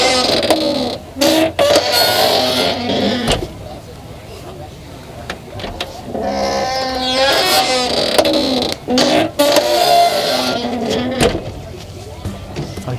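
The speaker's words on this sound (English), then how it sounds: "So this is what I call my Chewbacca door from Star Wars." Worn hinges on a 4WD touring vehicle's door give long, groaning creaks in several separate swings, loud and close, with pauses of quiet between them.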